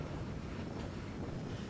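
Steady, loud wind buffeting a microphone outdoors on a very windy day beside a railway line, a broad low rumble that fills the whole moment with no break and no voices.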